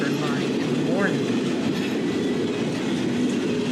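A westbound Norfolk Southern intermodal freight train on the Harrisburg line rolls steadily past at close range, a loud continuous rumble of railcars with wheel clatter and a brief squeal.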